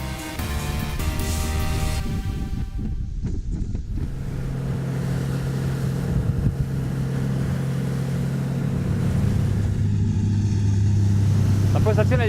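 A Ranieri Next 290 SH motorboat cruising at about 3500 rpm and 13 knots, its engine drone and hull-on-water rush steady and loud throughout, with a lower motor hum growing stronger in the second half while a person speaks over it.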